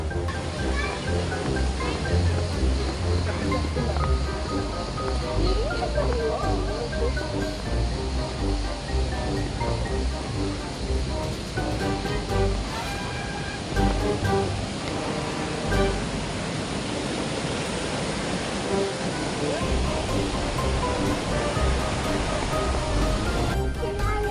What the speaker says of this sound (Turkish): Daha Diden Şelalesi'ne Şimdi girişteyiz.